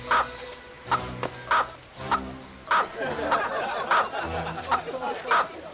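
A hen clucks in a rhythmic run of short, sharp calls, close and fairly loud, repeating roughly every half second over a faint background murmur.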